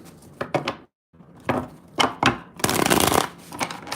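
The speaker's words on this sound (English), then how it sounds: "One more shuffle." Tarot cards are riffled and shuffled in quick, close bursts, with short pauses and a longer, denser shuffle near the end.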